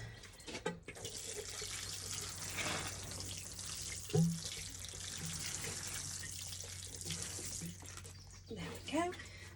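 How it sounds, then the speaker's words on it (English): Water poured from a watering can onto compost-topped soil in a pot to water in freshly sown basil seeds, a steady soft splashing trickle heard close by with a few faint background noises. "And then we are going to water in."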